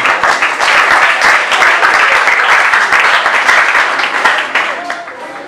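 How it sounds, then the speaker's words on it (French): An audience claps steadily for an award winner at an open-house ceremony of a wrestling association, the dense applause loud and continuous for several seconds before easing slightly at the end. "nous l'acclamons"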